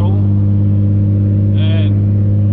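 A Nissan 350Z cruises uphill in sixth gear at light throttle, its steady low engine drone and road noise filling the cabin loudly and continuously, with a brief higher whine partway through.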